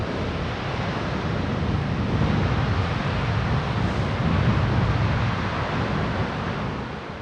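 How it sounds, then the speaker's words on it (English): Big ocean waves breaking near a parked van on a windy coast, a steady loud wash of surf and wind noise that swells slightly midway, with no voices. "watch these big waves come in"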